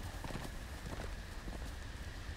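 Horse hooves clip-clop in a Game of Thrones video game, a quick, faint run of hoofbeats over a steady hiss of background noise.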